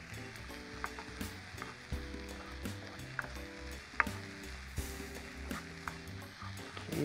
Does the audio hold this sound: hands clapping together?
no